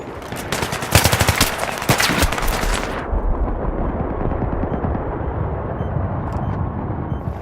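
Sustained automatic gunfire from Battlefield 3 on the Caspian Border map, dense rapid bursts loud for about three seconds, then continuing steadily in the background with lighter distant shots.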